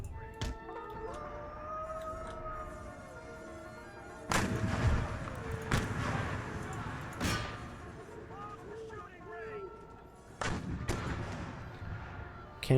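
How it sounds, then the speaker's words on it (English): Cannon fire in the strategy game Empire: Total War, several heavy booming shots spaced irregularly across the battle, with distant ambience and tonal game sounds between the blasts. "Cannon fire out on their general."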